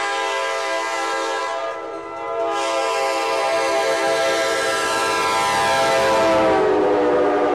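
A locomotive's multi-chime air horn sounds a loud, sustained, in-tune chord, with a brief dip near the start before it swells back and holds steady to the end, alone without talk.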